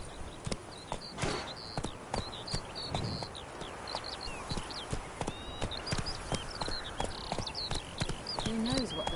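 Roach the horse from the video game The Witcher 3 trots along with steady rhythmic hoof clip-clops, close and clear, while birds chirp in the background and a voice speaks.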